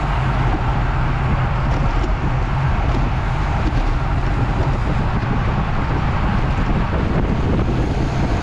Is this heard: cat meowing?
no